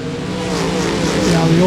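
A 598-cubic-inch Oldsmobile-powered rear-engine drag car at Milan Dragway, a steady loud engine drone with rising harmonic tones that climb as it accelerates, blended with commentator talk.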